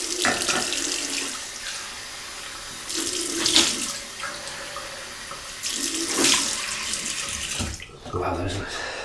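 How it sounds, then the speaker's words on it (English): Cold tap water runs into a sink for a rinse during a wet shave, a steady broadband rush with a few louder splashy surges, heard close and alone. "So cold water rinse."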